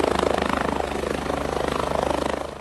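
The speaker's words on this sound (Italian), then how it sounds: "A monitorare la situazione dall'alto è l'elicottero Drago 81." Fire brigade helicopter Drago 81 flying overhead above avalanche-risk areas, a steady rotor drone with rapid blade chop pulsing throughout, fairly loud and continuous with no voices.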